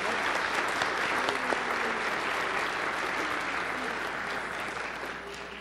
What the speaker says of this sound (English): Let us give thanks to God for Hendrix with our applause